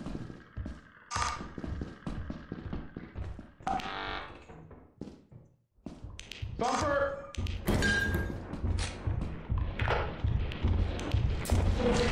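The Thumper monster in Lethal Company thudding around, a run of heavy thumps and knocks of varying loudness, mixed with in-game clatter, with shouting voices over them.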